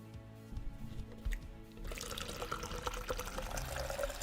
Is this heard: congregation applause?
no